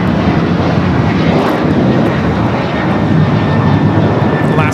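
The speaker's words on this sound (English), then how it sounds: "Alaska Airlines Flight 6 taking off to Washington Reagan National on the 737-800 in the Honoring Those Who Serve livery" An Alaska Airlines Boeing 737-800 in a special livery takes off from LAX, its jet engines delivering a loud, sustained broadband roar that holds steady throughout, with no talk.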